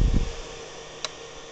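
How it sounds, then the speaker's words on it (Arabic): A cooling fan on a car power inverter converting DC to AC runs with a steady, soft whooshing hiss, broken by one brief click near the end. "هنا المروحة تعمل بشكل جيد."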